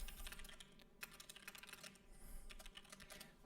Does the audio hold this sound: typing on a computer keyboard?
yes